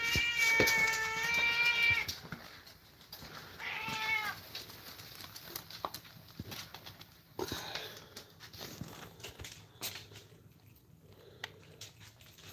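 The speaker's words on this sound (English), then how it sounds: "That's a cat that likes catnip." An 18-year-old cat fond of catnip lets out two drawn-out, wavering meows close by, then goes quiet apart from faint sniffing and light rustling.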